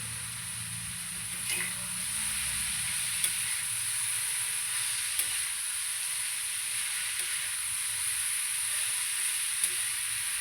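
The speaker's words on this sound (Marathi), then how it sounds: "आता ही सगळी भाजी मी मिक्स करून घेते" Finely chopped fried French beans are stirred in a pan, a soft steady sizzle and hiss with occasional light scraping clicks from the spoon spaced every couple of seconds, close-up and moderately quiet.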